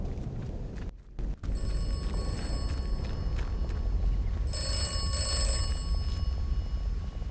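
An in-game telephone in Atomfall rings with a bright, metallic bell, two ring bursts heard over a low ambient rumble, the second louder and clearer.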